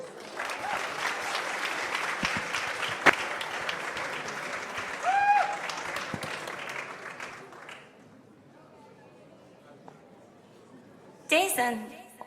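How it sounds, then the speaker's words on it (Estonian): Audience applause rolls steadily for about eight seconds at a school playback show in Läänemaa, dense and moderately loud, then drops away before music bursts in near the end. "Aplaus!"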